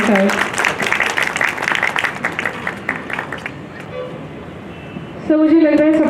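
An audience at an awards ceremony claps in a dense burst that thins out and fades over a few seconds, then a voice speaks over a quieter room.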